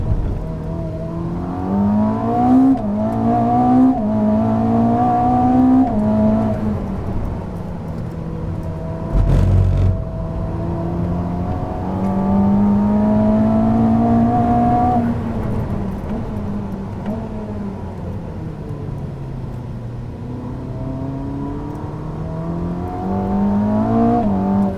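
A Ferrari SF90 Assetto Fiorano is driven hard on hot laps around a track, its engine note rising and falling through repeated gear changes under heavy acceleration and braking, heard from inside the car.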